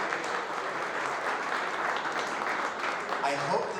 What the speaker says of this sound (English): Let's give a round of applause to those fine players.